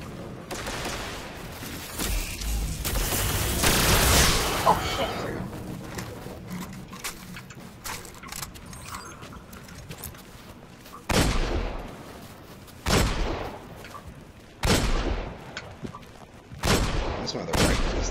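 Rifle fire in the video game Destiny, with a dense burst of shots early on and then several separate loud blasts later, over steady game ambience.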